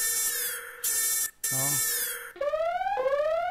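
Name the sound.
alarm sound effect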